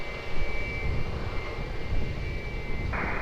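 An airplane lands at Lisbon Airport, heard as a steady roaring jet engine rumble of moderate loudness with a thin high whine running through it and a brief shift in tone near the end.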